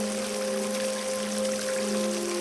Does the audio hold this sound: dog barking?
no